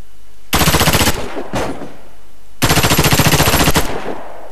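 Two long bursts of rapid automatic rifle fire from a recoilless gun in the game Warface, each followed by a brief lighter rattle, loud and close with short pauses between.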